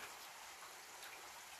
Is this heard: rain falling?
yes